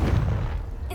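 Confringo fire spell blast in Hogwarts Legacy: a short, heavy booming impact with a thick low rumble, loud and close, lasting about a second.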